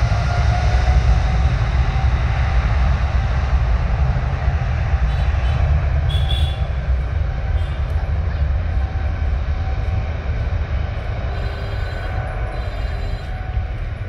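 Jet engines of an airliner at Dhaka airport roar loudly and close as the plane rolls toward takeoff, a continuous heavy rumble with a broad rushing wash that barely varies throughout.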